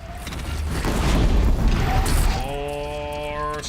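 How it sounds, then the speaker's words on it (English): Explosions go off in Horizon Zero Dawn, a loud broadband blast that rumbles and crashes for about two seconds. A clear, sustained electronic tone with ringing overtones then takes over as the blast fades. "More explosions."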